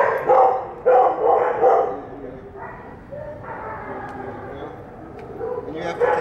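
Several dogs bark in sharp bursts, fairly close, then fade to a quieter background while a person speaks commands over them.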